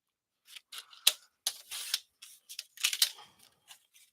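Scissors cut through cardstock in a series of short, crisp snips and crunches, close and fairly quiet, with pauses between strokes.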